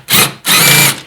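A power driver backs out T30 Torx screws from the microfilter cover of a BMW E46, two close, loud whirring bursts, a short one followed by a longer one after a brief pause.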